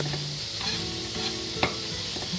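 Swordfish frying in a pan, a steady close sizzle running throughout with a brief sharp clink partway through, no voices.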